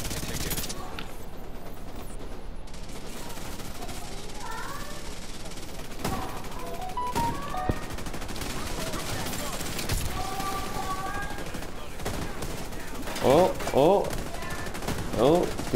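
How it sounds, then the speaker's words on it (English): Explosive rounds fire in the video game The Division 2 as scattered sharp bursts and cracks over a busy layer of game sounds, with several louder blasts clustered near the end. "I got some special ammo over here."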